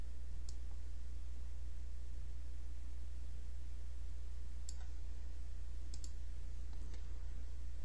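Sparse mouse clicks in plotting software, a few faint, sharp taps scattered over a steady low hum with no talk.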